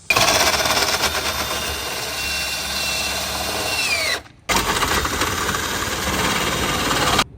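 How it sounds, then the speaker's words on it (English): An electric drill fitted with a special socket runs steadily, lowering the stabilizer jacks on a travel trailer; a loud, close whirring motor holds for about four seconds, stops briefly, then resumes at the same pitch until the end. "we're going to lower the stabilizers with the drill"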